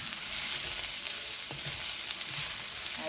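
Fresh coconut cooking briefly in a pan with moringa leaves, a dense steady sizzle with a couple of faint stirring knocks, close and even, no talking.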